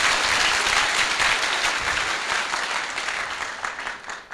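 A church congregation claps together in steady, dense applause that stays loud throughout, then begins to thin and fade near the end.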